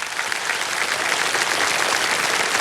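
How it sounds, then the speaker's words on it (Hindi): Steady, dense applause from a crowd, loud and sustained throughout with no voices standing out. "तालियां बज जाए इनके लिए।"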